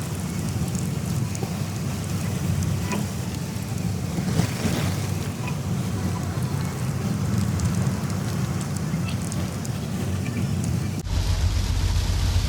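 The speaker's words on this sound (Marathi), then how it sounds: "इथे पण तसाच पाऊस आहे" Steady rain in Mumbai during the monsoon, heard as a continuous broadband wash from inside a moving train carriage with low rumble underneath, ending in a louder low-frequency roar near the end.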